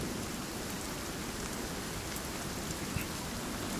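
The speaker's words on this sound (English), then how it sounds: "Doesn't help that it's raining as well." Steady rain falls across the whole stretch in the survival video game Sons of the Forest, a dense, even hiss with no voices over it.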